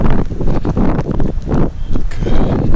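Wind gusting across a mountain trail during a trail race near St Guiral, a loud, broadband rush that swells and dips throughout, buffeting the microphone with no voices heard.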